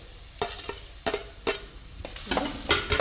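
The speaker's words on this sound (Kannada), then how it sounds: "ಎಣ್ಣೆ ಕಾದಿದೆ, ಈರುಳ್ಳಿ ಹಾಕೋತಾ ಇದ್ದೀನಿ" Chopped onions hitting hot oil for egg bhurji, a steady close sizzle broken by several sharp scraping stirs of a spatula against the pan, with no talking.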